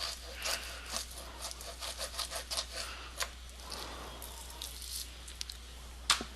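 A knife trims a piece of beef for stew in a series of soft, quiet scraping and sawing strokes close by, with no speech.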